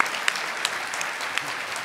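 Audience applause after a performance at the Praemium Imperiale Awards in Japan: a steady, dense wash of clapping from a crowd, with a few sharper claps standing out, continuing throughout without any talking.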